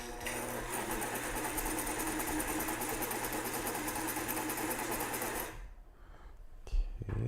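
A sewing machine runs steadily while hemming fabric, a loud continuous whirring motor hum with rapid needle rhythm for most of the clip, then stopping abruptly, leaving quiet with a small bump.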